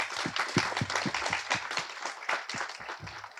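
An audience applauding at a Tamil film event, with distinct, fairly rhythmic hand claps over a soft crowd wash, moderately close and steady throughout.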